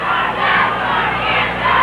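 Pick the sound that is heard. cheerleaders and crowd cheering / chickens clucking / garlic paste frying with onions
cheerleaders and crowd cheering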